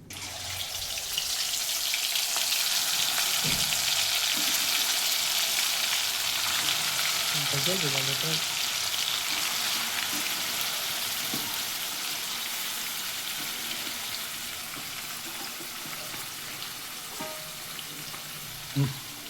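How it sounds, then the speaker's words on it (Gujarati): Spice paste of yogurt, ginger-garlic paste, coriander-cumin, turmeric, cloves and black pepper hits hot oil, a loud hissing sizzle that holds steady then eases slightly, with a few faint stirring knocks. "આજે આપણે મસાલો અડધો કલાક પહેલાં બધું મિક્સ કરેલું હતું, તે જે હમણાં ઓઇલ આપણે ગરમ કર્યું એમાં નાખવાનું છે"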